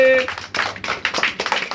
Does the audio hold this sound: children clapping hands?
yes